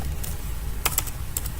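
Computer keyboard typing at a desk, a few scattered clicks, then a quick cluster of keystrokes and two more taps, fairly faint over a steady low background hum.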